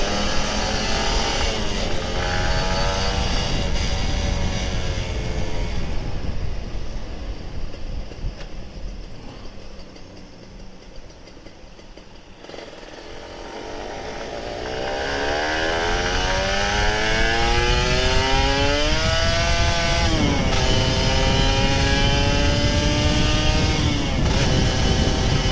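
An old Kawasaki Ninja RR 150 motorcycle engine revs hard and loud up close, dips to a lower drone midway, then climbs again through rising, whining revs.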